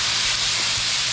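Peppers sizzle on a Blackstone griddle over medium-high burners, giving a loud, steady, close hiss with no break.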